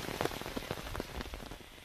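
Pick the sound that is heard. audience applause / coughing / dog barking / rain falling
rain falling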